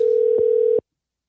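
A steady phone tone sounds as a call rings out before going to voicemail, broken by two short clicks and then cut off abruptly into silence.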